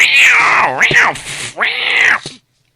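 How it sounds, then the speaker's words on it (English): Cat fight sound effect: loud, drawn-out yowling and caterwauling in several swelling, wavering cries with a brief break in the middle, ending abruptly. "Cat fight."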